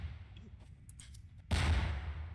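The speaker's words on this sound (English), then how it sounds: "Ah, I see explosions." A sudden loud explosive boom bursts in after quiet background noise, with a rumbling tail, from explosions in Garry's Mod.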